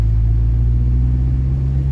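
A motorcycle approaching on a dark road gives off a low, steady engine rumble close by, with no voices heard.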